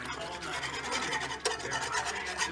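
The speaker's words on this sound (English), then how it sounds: "And I'm just whisking, getting all the, blending it all together." A mixture is whisked with water in a pan on medium heat, giving a continuous close scraping and rasping of the whisk against the pan, steady and fairly quiet without talking.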